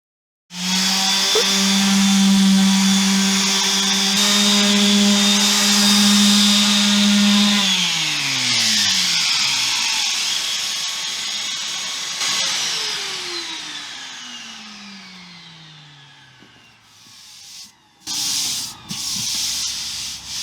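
Power sander smoothing a wooden piece down to 240 grit, a loud steady whine running alone for about seven seconds, then its pitch sliding down as it spins down and fades, with brief clattering handling noises at the end.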